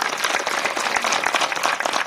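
A crowd applauds at a village panchayat inauguration ceremony for development works, thanking a local leader: dense, steady clapping from many hands, loud and close, with no talk over it.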